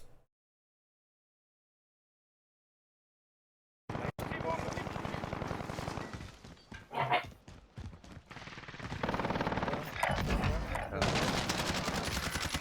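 Bursts of gunfire from Call of Duty: Warzone erupt after several seconds of silence, dense rapid shots mixed with game effects, with a voice talking over parts of the action.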